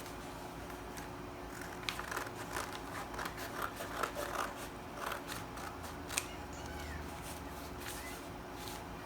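Scissors cut fabric for a handkerchief peplum top in a series of quiet, irregular snips and rustles, close by, with no talk over them.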